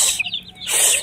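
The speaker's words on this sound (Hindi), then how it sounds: "तो मुर्गा वहाँ पे भाग गया है" A rooster in a backyard pigeon and poultry enclosure gives a brief, close, clucking call with sharp high squawks. The sound lasts about a second, and there is no talk.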